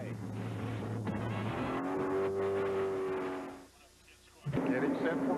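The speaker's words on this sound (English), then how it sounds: "Mike, you could hear him shifting down and clearing those motors up, anticipating the start." Several stock car engines rumble and rev at Daytona International Speedway before the 1998 Gatorade Twin 125 start, pitches rising and falling as they downshift, with a brief lull before the roar returns; a voice talks over them.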